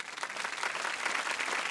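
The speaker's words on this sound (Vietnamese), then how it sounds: "Chúng ta cho ba đội một tràng pháo tay thật lớn quý vị." Audience applause at a Vietnamese televised talent-show gala, a dense, steady wash of clapping from a large crowd that fills the whole stretch with no break.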